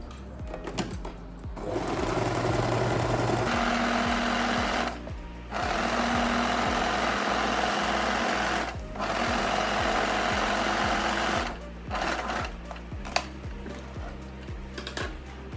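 A sewing machine stitching a tie back dress, running in several sustained bursts of fast rhythmic mechanical clatter with short pauses between, close and loud.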